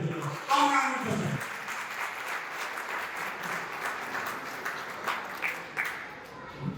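An audience at a retired police and civil staff association gathering breaks into steady, sustained applause that rolls on for several seconds, with voices briefly audible at the start.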